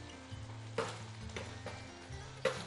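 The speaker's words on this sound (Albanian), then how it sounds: "Pra, shtova dhe qepën e shikone, fillon dhe kryohet kjo djersitja e tiganit" Onion sweating in a frying pan for a green bean, rice and tomato dish, a soft continuous sizzle with a few sharp ticks and clicks, quiet and close.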